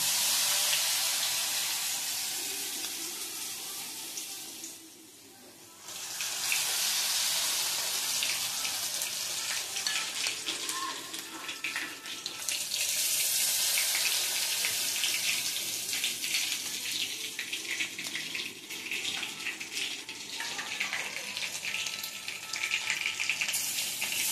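Batter-dipped prawns frying in hot oil for honey prawns, a steady broadband sizzle and bubbling that runs almost continuously, dipping briefly near the start before resuming at full strength, with no talking.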